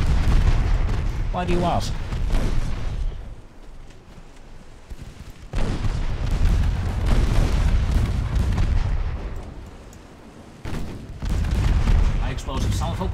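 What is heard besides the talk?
naval gun salvos in the video game Ultimate Admiral Dreadnoughts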